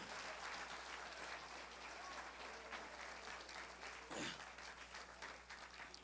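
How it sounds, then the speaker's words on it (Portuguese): Church congregation applauding during a Pentecostal service, a steady broadband wash of many hands clapping throughout, moderately distant and reverberant, with no speech over it. "Dá um aplauso ao Senhor."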